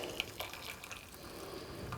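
Boiling water poured into a food processor of flour and melted fat for pork pie hot water crust pastry, a steady close splashing trickle with a few small knocks, no talking.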